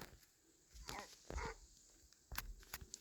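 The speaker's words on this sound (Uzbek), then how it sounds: "Zombi it bo'lsa, do'stlar" A zombie dog in a Minecraft zombie-apocalypse world gives a few faint, short growls and barks spread over a few seconds.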